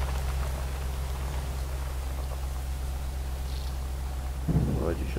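Steady rain hiss and a low rumbling vehicle engine from the off-road driving game Spin Tires, with a GAZ-53 truck driving through wet weather; a constant wash of noise with a brief louder thump near the end.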